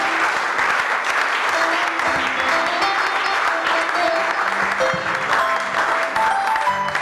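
A church congregation in Dolisie applauds steadily and loudly, a dense continuous wash of clapping that fills the whole stretch, with a voice or music tones faintly underneath.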